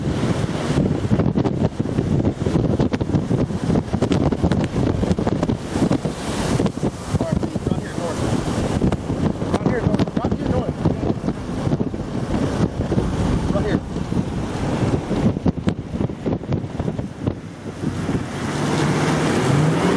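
Tornado winds roar right up close in Chickasha, Oklahoma, a loud, unbroken rush of wind buffeting the microphone with gusty surges, while voices can be heard under the din.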